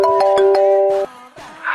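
A phone ringtone from an incoming call rings out as a few loud, close melodic tones in a short repeating pattern, then cuts off abruptly and leaves a softer tone.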